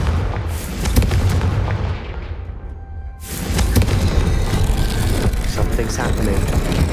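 Confringo explosion spell from the Hogwarts Legacy video game: a loud blast at the start and another near the three-second mark, followed by sustained rumbling, booming combat noise.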